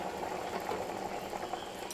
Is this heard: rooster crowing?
no